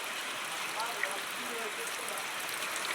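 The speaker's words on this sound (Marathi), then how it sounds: "हा पाऊस तर बघा चालू आहे ना" Steady rain falling in a village on a morning, a dense, even hiss of drops with no breaks.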